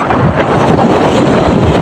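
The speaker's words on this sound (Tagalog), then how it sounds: "Ang malakas po rito ay hangin." Strong, sustained typhoon wind, storm signal number 4, roars and buffets the microphone, loud and continuous throughout with no voices.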